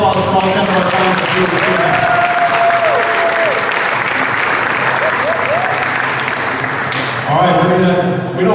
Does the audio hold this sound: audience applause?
yes